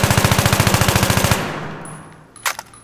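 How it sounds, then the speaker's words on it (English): An AEK assault rifle in Battlefield 3 fires full-auto while aiming down the sights, with recoil uncontrolled. A rapid, even burst of about sixteen loud, close shots cuts off sharply and leaves a fading echo tail, followed by a couple of faint mechanical clicks. "I'm gonna aim down my sights, and then I'm just gonna fire without controlling recoil"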